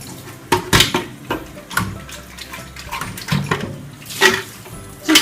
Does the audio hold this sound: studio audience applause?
no